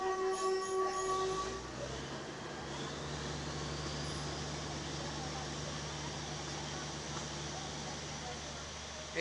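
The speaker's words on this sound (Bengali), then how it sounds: "এই মুহূর্তে আমরা এই গেট বন্ধ করে আমাদের ট্রেন পার করতে চলেছি" Train crossing a closed level crossing beside ripe paddy fields, its steady heavy rumble filling the air after a brief higher tone at the start, holding at an even level for several seconds.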